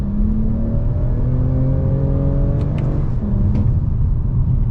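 A 2021 Toyota Camry TRD accelerates hard in first gear, its engine note rising steadily in a loud, continuous drone with climbing harmonics, followed by a brief shift and a renewed pull.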